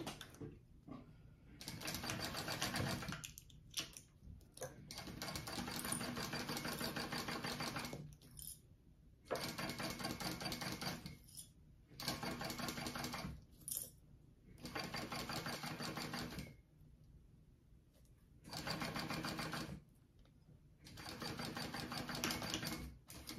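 A sewing machine basting the side panel of a fabric backpack, running in repeated steady bursts of several seconds each with short pauses between, close and alone.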